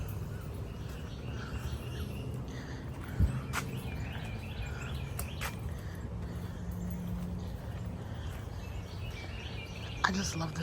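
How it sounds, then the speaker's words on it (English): Birds chirping at a bird sanctuary beside a pond and walking trail, with faint, scattered calls over steady outdoor background noise and a couple of brief knocks. "I just love the sounds of the birds."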